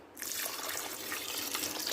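Water poured into a pot of lentils for cooking, a steady close splashing pour that starts abruptly and runs continuously, with no talking.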